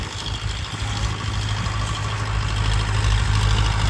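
A Digitrac tractor engine idles close by, a steady low diesel rumble with a rough, even throb that grows slightly louder toward the end, with no talking.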